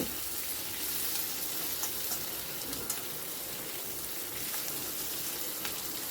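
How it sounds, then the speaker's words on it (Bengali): Onion and ridge gourd frying over a high flame while being stirred continuously in a pan, a steady low hiss with scattered faint scrapes and ticks and no voices. "পেঁয়াজটা দেওয়ার পর আমি আবার সব কিছু ভালো করে মিশিয়ে নিচ্ছি।"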